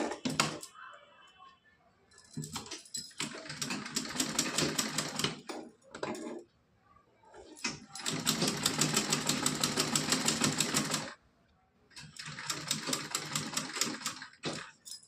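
A sewing machine stitches a cotton dress for a Laddu Gopal idol, running in three long rapid-clatter bursts separated by short pauses and lighter handling sounds, with no talking.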